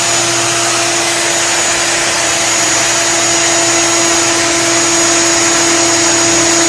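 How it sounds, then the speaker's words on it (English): A loud, steady plunge router whine cutting solid surface material, with a constant dust vacuum hiss running alongside, continuous and close for the whole stretch. "when we turn this on, the vacuum will go on also"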